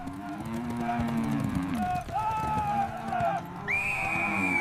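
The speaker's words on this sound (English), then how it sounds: "Skilled stockmen muster the herd for processing day." Grey Brahman cattle herd being mustered in the Australian outback, several loud, drawn-out moos from nearby animals, one after another, with some higher calls and background livestock noise.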